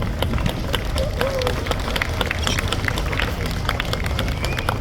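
Crowd at an outdoor rally for Julian Assange in Adelaide breaking into a round of applause, steady clapping and cheering held at an even level throughout, with a murmur of voices mixed in.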